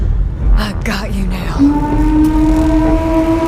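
A train in the VR shooter Pistol Whip rumbles and clatters, then a loud, steady horn or whistle tone sounds and holds for the last two seconds, close and prominent.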